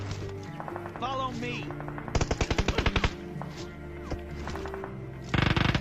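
Automatic gunfire in PUBG Mobile rings out in two rapid bursts of sharp, evenly spaced shots, the second cut off at the end, while someone talks over quieter game sounds between them.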